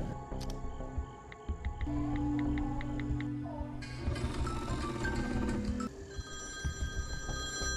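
A film scene carries a telephone's bell ring, repeated trilling bursts over a busy, faint background of music and ambient sound.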